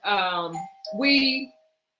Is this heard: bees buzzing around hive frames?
no